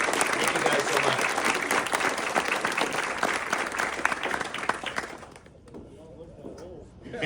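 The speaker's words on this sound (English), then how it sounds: "Let's give them a big round of applause for a century-long tradition" A crowd at a yacht club ceremony applauds loudly and continuously for about five seconds, then the clapping dies away into quieter murmuring voices.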